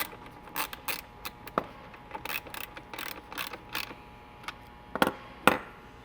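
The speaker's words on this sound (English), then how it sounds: "We're going to go ahead and use our 10mm socket," A 10mm socket ratchet tightens intake hardware on a Kia K5 GT or Hyundai Sonata N-Line, giving close, irregular bursts of quick pawl clicks separated by brief pauses, alone without talk.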